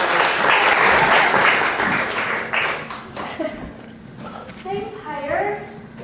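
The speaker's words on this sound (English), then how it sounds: "Big round of applause to get this one." A live audience gives a round of applause, loud and full at first, then thinning out as talking and laughter take over toward the end.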